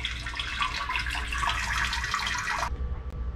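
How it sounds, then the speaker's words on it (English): An RV toilet flushing with water swirling in the bowl after a low-pressure fix: a steady hissing rush of water that runs for almost three seconds, then cuts off abruptly into quiet. "See, it's actually swirling now instead of just running down."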